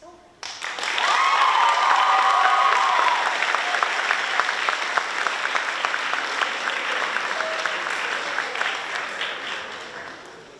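Loud audience applause at a high school awards night, bursting in suddenly and holding as dense, close clapping that slowly thins out, with some crowd noise mixed in.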